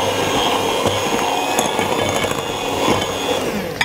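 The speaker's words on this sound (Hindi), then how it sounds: "एग बीटर से ज़रा अच्छा काम हो जाता है" An egg beater whirs steadily through tea cake batter in a bowl, a continuous loud mechanical buzz with scraping and clattering against the bowl, ending in a sharp knock.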